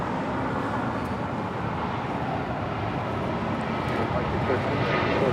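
Japan Airlines Boeing 777-300ER jet departing LAX bound for Tokyo Haneda, a steady broadband engine roar filling the air at a distance, with voices chatting over it throughout.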